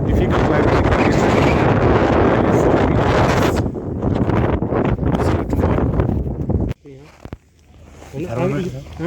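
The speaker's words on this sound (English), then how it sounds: "very windy and very difficult climatic condition" Strong gusting wind roars and buffets the microphone on snowy Siachen Glacier at 17,500 ft, loud and continuous before dropping suddenly near the end, where a voice talks under a lighter wind.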